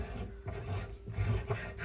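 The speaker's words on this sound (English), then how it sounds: "This just basically grinds a new flat smooth surface for the washer to sit on inside the tap body." A cheap Draper tap reseating tool grinds a brass tap seat inside a tap body, making soft, uneven rasping and rubbing strokes, close and fairly quiet.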